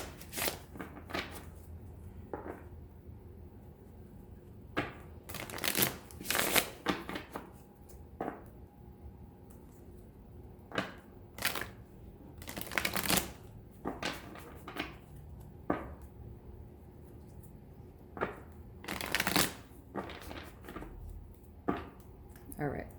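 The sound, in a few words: shuffling tarot cards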